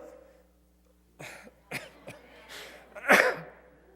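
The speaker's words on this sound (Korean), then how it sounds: "말을 못해서 기침했습니다." A few short coughs break a near-silent church during a sermon, ending in a louder, harsher cough close to the listener.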